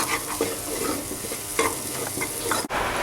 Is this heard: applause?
no